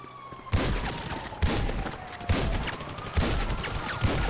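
Shotgun blasts from Grand Theft Auto gameplay: five heavy booming shots spaced roughly a second apart, loud and close, each with a short decaying tail, over a faint tonal background hum.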